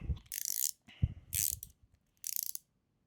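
Screw being tightened on a 3D-printed ACRO optic mount for a VFC P320 airsoft pistol, three short bursts of quiet ratcheting clicks separated by brief pauses, close up and without talk.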